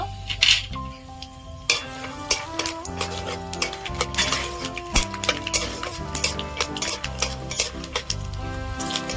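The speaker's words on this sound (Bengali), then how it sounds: "তেল দিয়ে দেবো বাদামগুলো ভেজে নেব" Nuts fry in oil in a pan over a busy sizzle, with frequent metallic scrapes and clinks from stirring and utensils heard up close.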